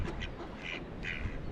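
A few short quacks from ducks, soft and at middle distance, spaced in quick bursts over a quiet outdoor background.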